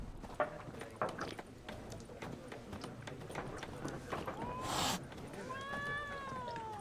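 Cat meowing in The Witcher 3, a few drawn-out mews near the end over quiet footsteps and game ambience.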